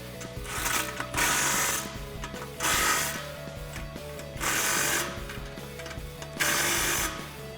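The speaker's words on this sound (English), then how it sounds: "Grab a 15 socket and tighten down the clamps." A 15 mm socket on a ratchet tightens clamps on the X-pipe of a Roush cat-back exhaust for a 2018-2019 Mustang GT, giving four close bursts of rapid clicking separated by short pauses.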